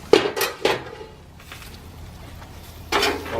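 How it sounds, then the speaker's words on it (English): A metal lid clanks and scrapes against a cooking pot of potatoes, two sharp clinks early, quieter rattles in the middle, and another clatter near the end, with no talking. "So we're gonna take a lid off."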